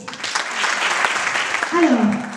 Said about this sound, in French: Vous les applaudissez s'il vous plaît.